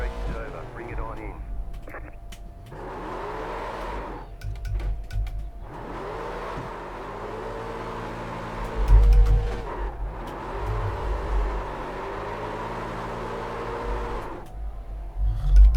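A race car engine in iRacing revs repeatedly during a burnout, rising and falling in long sweeps with near, loud cycles and a brief surge near nine seconds, while someone talks over it.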